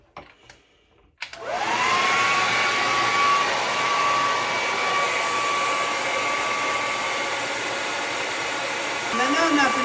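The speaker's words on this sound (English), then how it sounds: "I'm gonna diffuse it and sit on the dryer, get it dry" A hair dryer with a diffuser attachment switches on after a brief moment of quiet and then runs as a loud, steady whine with a constant airy roar, close by, until the clip ends.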